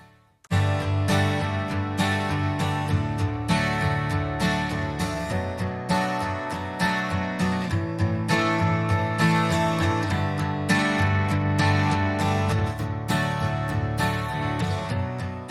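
Strummed acoustic guitar chords through the Safari Pedals Cassette Bunny lo-fi plugin, steady and clear, with a subtly wobbling, slightly worn tape-like tone throughout; no voices.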